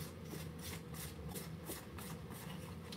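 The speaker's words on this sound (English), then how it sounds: "you need to take a light sandpaper, find a light grit one," A sheet being sanded by hand with light-grit sandpaper: steady, rhythmic back-and-forth rasping strokes, about three per second, close and even throughout with no talking.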